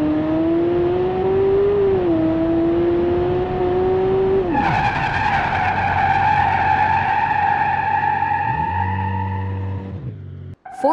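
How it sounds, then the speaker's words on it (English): A Dodge Charger runs through a brake test, its engine whining and revving up before a long, loud tire squeal as the car skids to a stop, ending with a low idling rumble. "Car brake test. Dodge Charger."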